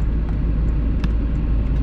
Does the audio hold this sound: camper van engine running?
yes